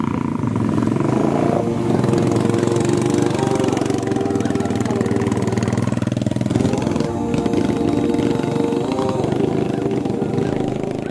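A motorcycle engine runs steadily on an unpaved mountain road, a loud, close, continuous mid-pitched drone with slight revving changes throughout and no talking.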